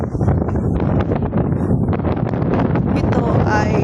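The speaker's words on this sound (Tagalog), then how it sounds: "Lakas ang hangin." Strong wind buffets the microphone in a steady, loud roar with gusty rumbling throughout, outdoors and close on the Macau seawall.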